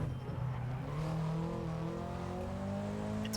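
A rally car engine in the EA WRC racing game drones and revs through the gears, with a steady rising and falling tone that stays close and moderately loud with no talk.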